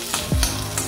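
Potatoes stirred through spiced oil in a pan, a brief steady sizzle with a low scrape of the spoon, close and alone.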